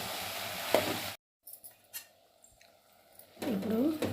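Bottle gourd dal is stirred in a hot pan, with sizzling and scraping strokes. A sudden brief silence interrupts it, then scattered soft scrapes follow before the busy stirring and sizzle return.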